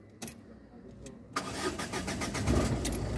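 A diesel Ford Fiesta 1.4 TD with an injection circuit fault on cylinder 2 cranks in a few hesitant clicks, then catches and settles into a rough, close idle.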